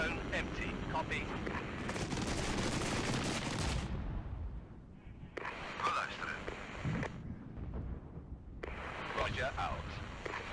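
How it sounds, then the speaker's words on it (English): Heavy gunfire in the Regiments video game, dense bursts of shots and impacts in loud stretches separated by brief near-silent gaps, with radio-style voices talking over the battle. "Taking heavy direct fire."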